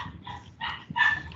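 Puppies bark and yip in the background, a few short, fairly faint barks in quick succession.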